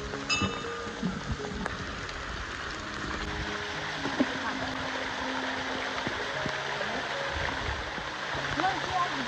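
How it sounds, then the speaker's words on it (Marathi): A stream flows during continuous rain, giving a steady, broad rushing wash that lasts throughout at moderate loudness, with people talking over it. "समोर बघाल तर इकडे झरा पण आलं"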